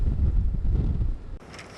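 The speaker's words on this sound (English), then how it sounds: "it's just as windy as it's been all day" Strong wind at Jacksonville Beach buffets a microphone in a low, rumbling roar for a couple of seconds, then drops off abruptly to a quieter hiss.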